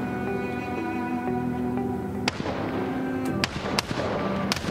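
Gunfire in a Project Zomboid roleplay game: a few sharp, loud shots ring out separately in the second half, over a steady tonal game hum.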